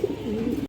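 A big black male pigeon gives one short, low coo up close, a brief throaty murmur that cuts off abruptly.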